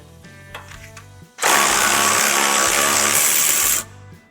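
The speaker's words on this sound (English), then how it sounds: "now we're going to use the electric ratchet again to remove these nuts" An electric ratchet spins off nylon nuts from a ball joint on a 1990-2002 Crown Victoria, Town Car or Grand Marquis. After a few light clicks, a loud, high, steady whir runs for about two and a half seconds, then stops.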